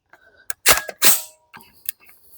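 A DaVinci DG-9 PCC with an ETS magazine fires two sharp, loud cracks close together, with lighter mechanical clicks before and after them, close by and with no talking.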